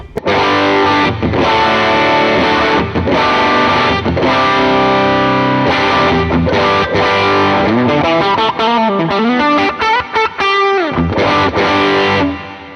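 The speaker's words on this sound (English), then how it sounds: "flip switch up, which means you're engaging the overdrive knob here" Crunchy overdriven electric guitar through an Ibanez TS808 overdrive pedal plays chords and melodic runs continuously and loudly, with a thick, hairy distorted tone throughout.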